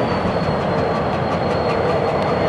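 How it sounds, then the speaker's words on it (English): Train cars kicked loose in a rail yard roll and clatter loudly and continuously, a dense steady rumble of wheels and couplers close by. "It just kicked that whole train."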